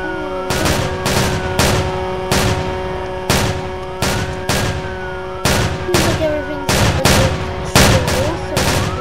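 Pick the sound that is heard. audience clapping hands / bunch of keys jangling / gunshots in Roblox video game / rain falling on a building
gunshots in Roblox video game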